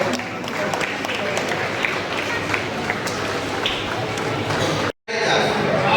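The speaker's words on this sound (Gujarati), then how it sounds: "આપણે તાળીઓની જય લગાવીએ" An audience at a student award ceremony in Bhavnagar claps steadily in a dense wash of applause, briefly cut off near the end before resuming, with voices mixed in.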